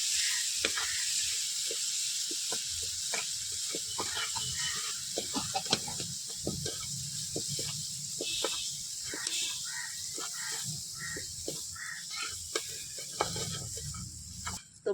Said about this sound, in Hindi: तो तेल गरम हो चुका है और ये रहा मसाला। तो मसाला को पहले तल लेती हूँ।